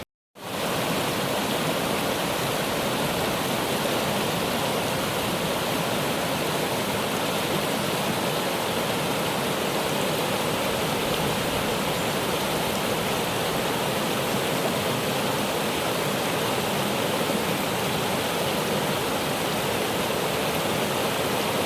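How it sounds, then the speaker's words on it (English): A waterfall at a remote trout-fishing spot in New Zealand, pouring in a steady, dense roar close by that starts abruptly and holds unchanged throughout. "Pretty cool waterfall behind me"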